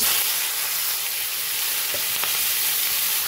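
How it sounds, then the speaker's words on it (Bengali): Crabs fry in hot oil in a wok, giving a loud, steady, close sizzling hiss with a few faint crackles and no talking. "এদিকে কড়াইতে তেলটা ভালো করে গরম করে নিয়েছি। এবার দিয়ে দেবো কাঁকড়াগুলো"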